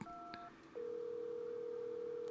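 A telephone in the Resident Evil 7 Biohazard video game sounds a steady electronic tone, clear and fairly loud, following a brief two-tone beep with no talking.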